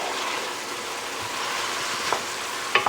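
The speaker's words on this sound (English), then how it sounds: "We're going to get our onions in. And then we're going to cook these down for about 2 minutes." Onions sizzle steadily in a hot pan as a pan-fried flat iron steak dish is cooked, a continuous close crackle with a few sharper stir clicks near the end.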